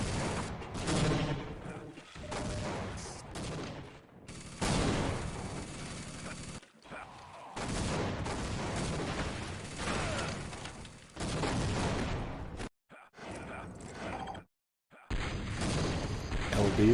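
Dense, sustained bursts of cannon fire and explosions in a team video game, booming volleys that rumble continuously with brief gaps of silence between barrages.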